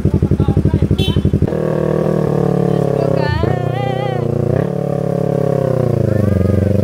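A big bike motorcycle engine idles with a rapid pulsing rumble, then settles into a steady loud drone with shifting pitch, close by, while people talk over it.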